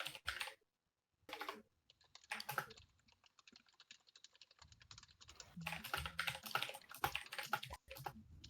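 Bursts of typing on a computer keyboard, clustered quick key clicks separated by short pauses, close and fairly quiet, with faint background noise between bursts.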